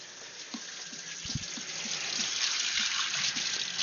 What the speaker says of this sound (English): I'm gonna rinse this.